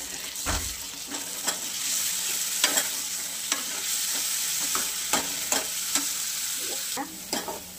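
Finely chopped tomato sautés with cooked onion in a pan for chole, a steady close sizzle punctuated by regular sharp clicks of a spoon stirring against the pan.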